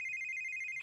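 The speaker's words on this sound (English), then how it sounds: "her misery compounded when her mobile rang. She let it ring for a bit" Mobile phone ringing as a horror drama sound effect, a steady electronic ring tone heard alone and fairly faint, cut off abruptly near the end.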